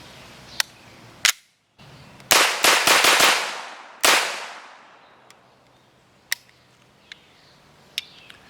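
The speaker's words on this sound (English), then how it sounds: "let's just take a couple quick shots just like this" An HK MP5K 9mm fitted with a bare metal stock fires a handful of sharp, loud shots, first single reports and then a quick burst, each ringing out and decaying outdoors, followed by faint clicks.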